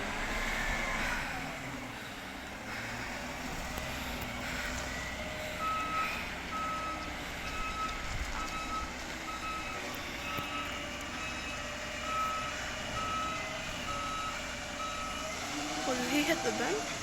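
An Enviro NZ glass collection waste truck backing up, its reversing beeper pulsing in an even repeating rhythm over a low idling engine, fairly close and steady throughout.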